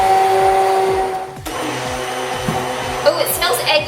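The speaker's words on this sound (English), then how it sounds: "So we're just going to quickly blend all of these ingredients together" A kitchen blender whirs steadily through vegan quiche base ingredients, loud and close, its motor pitch shifting partway through as the mixture thickens, with some brief clatter near the end.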